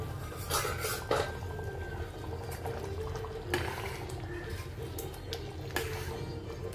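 A spoon scrapes and clinks against a pot while chole masala with kasuri methi is mixed, with several sharp metallic knocks over a soft bubbling background and no talking.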